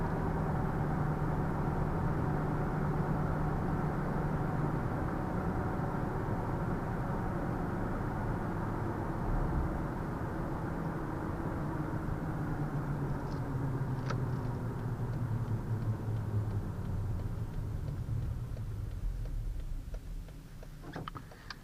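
Steady low rumble and hum of aggressive tires on pavement from inside a moving 2010 Toyota Tacoma, continuous and fairly loud, with no talking.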